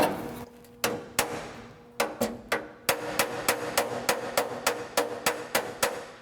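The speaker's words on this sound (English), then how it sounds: "what I want to do is basically hit right on each spot weld and just try and spread" A hammer taps spot welds on a rusty interior floor panel held against a dolly during rust repair: sharp metallic strikes, a few spaced apart at first, then a steady run of about a dozen evenly timed, close and clear, with no talking.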